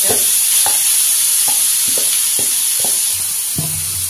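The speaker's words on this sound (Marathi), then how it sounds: "आता आपल्याला वांग्याचं भरीत घालायचं आहे" Mashed eggplant bharit added to hot oil tempered with cumin and mustard seeds, a loud continuous sizzle broken by regular spoon knocks against the pan, about one every half second.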